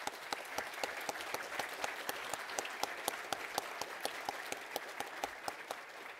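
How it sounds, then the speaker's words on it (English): A business-review audience gives a warm round of applause for a team, with steady, evenly spaced claps from a modest crowd sounding at moderate volume and no talking over them. "may I have a warm round of applause for our team here"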